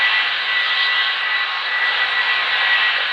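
Qatar Airways Boeing 777 jet engines give a steady, loud broadband roar with a hissing whine on top, constant throughout, with no voices.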